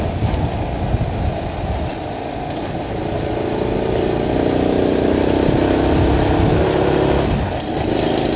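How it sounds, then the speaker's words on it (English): A Honda C90 motorcycle engine runs steadily and loudly up close, a continuous mid-pitched drone that rises slightly in the middle with no talking. "Engine's running as sweet as a nut, smooth, gearbox is lovely."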